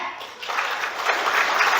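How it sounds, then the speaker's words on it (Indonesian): Applause from an audience at a public talk in Indonesia, a steady dense clatter of many hands filling the whole stretch, fairly close and loud with no voice over it. "Tepuk tangan."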